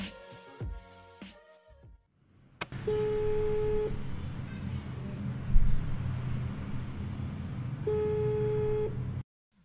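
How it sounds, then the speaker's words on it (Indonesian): Telephone call being placed: a few quick dial tones and beeps, then a steady ringback tone sounding in two long pulses over a low background rumble, without talk. "kita akan langsung telepon ke Kang Arif."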